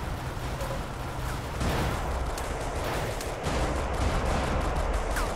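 A machine gun turret fires in the video game iBomber Defense Pacific, with dense, continuous rattling bursts layered with distant explosions and battle noise, loud throughout.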